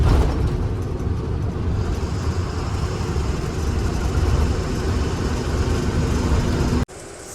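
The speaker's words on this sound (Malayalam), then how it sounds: "വണ്ടി ഇങ്ങനെ കയറിക്കൊണ്ടിരിക്കുകയാണ്" Fully loaded truck climbing an uphill road in gear at night near Shirur, its engine a loud, steady low rumble that holds throughout and then drops off abruptly near the end.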